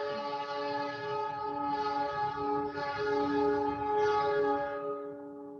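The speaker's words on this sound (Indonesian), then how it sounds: "Oh, ada suara kereta api." A train horn sounds near a railway station as the train passes, a loud, sustained multi-tone chord with a rumbling undertone that holds for about five seconds and then cuts off.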